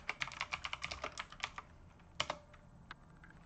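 Commands being typed on a computer keyboard while setting up a Hive OS mining rig, a quick run of close, crisp key clicks followed by a pause and a few heavier strokes, with no voices.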